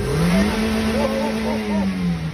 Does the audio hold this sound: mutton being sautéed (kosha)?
no